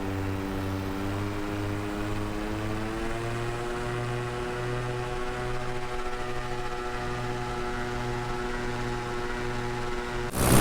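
A paramotor engine and propeller drone steadily in flight over Tennessee's Blue Ridge Mountains, a continuous buzzing hum with a slowly wavering pitch, close and loud, with a brief burst of wind noise at the very end.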